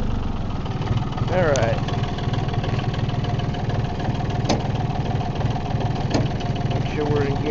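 A John Deere 870 tractor idles with a steady, low mechanical chug close by. A few faint clicks and a brief spoken word rise above the running engine.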